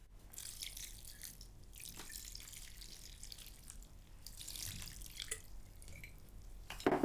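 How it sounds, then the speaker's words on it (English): Pickle brine poured from an opened jar over raw meat, a quiet patter of drips and trickling liquid with small splashes, faint and close, with no talk. "We open the pickles and pour the brine over the meat."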